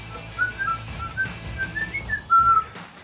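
A talking tui at a native bird recovery centre in Whangarei, New Zealand, whistles the tune of Pop Goes the Weasel in a series of clear, pure melodic notes, close and alone.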